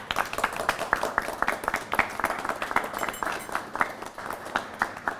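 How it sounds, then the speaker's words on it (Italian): A small group claps at an Easter menu presentation in a supermarket, with distinct, fairly sparse claps in an uneven rhythm that stay steady throughout. "Ragazzi, un applauso, un applauso"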